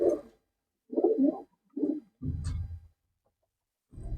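Pigeons and their chicks in a teddy pigeon loft give short, separate low coos and grunting calls, about five bursts with quiet gaps between, close to the listener and with no talking.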